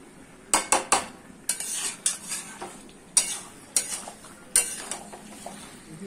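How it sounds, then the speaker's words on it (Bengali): Metal spoon scraping and clinking in a pan while meat and potatoes are stirred with spices, in a series of sharp irregular scrapes and knocks with a faint sizzle underneath. "আর একটু আলুর সাথে কষিয়ে, আলুটা মশলার সাথে কষিয়ে নেবো ভালো করে। 5 মিনিট মতন কষাবো আলুটা মাংস দিয়ে।"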